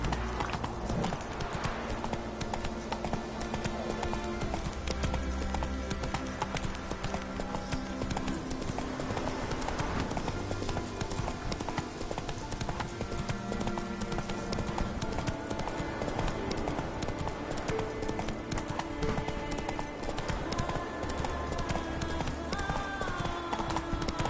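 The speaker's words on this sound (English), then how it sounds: "Whoa there, Roach." Horse hooves clip-clop steadily throughout a PS4 video game, the rhythmic footfalls sitting over a continuous bed of game music and ambience.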